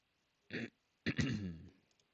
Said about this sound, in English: I wish I could just like clear my throat properly